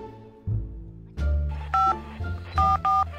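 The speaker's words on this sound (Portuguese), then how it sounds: "então eu vou ligar para ele aqui" Telephone dialing tones as someone places a call: a series of short, clear touch-tone beeps in an irregular rhythm over a low background hum, fairly quiet.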